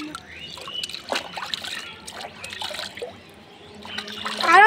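Water pours and trickles over a person being bathed and washed, splashing and dribbling in uneven close bursts, with a louder splash at the end.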